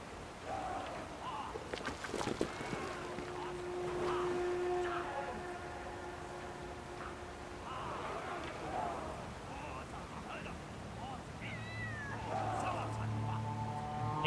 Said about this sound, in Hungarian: És egy macskát akarnak feláldozni, ahogy hallom